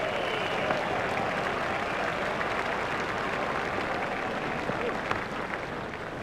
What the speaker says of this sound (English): Ganguly raises his bat to the crowd to acknowledge the applause